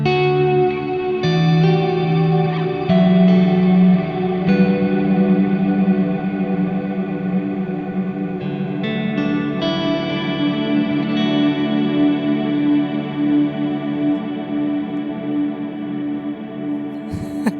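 An electric guitar runs through a pedalboard preset with modulated reverb and extra wash, giving a shimmering, chorus-like tone. Sustained chords ring out and blur into one another in a thick, continuous swell, with no voices over them.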